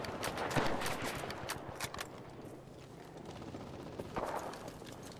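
Gunfire in the video game Enlisted, a spread of scattered cracking shots and bursts in a busy battle soundscape, some close and some distant, with no talking.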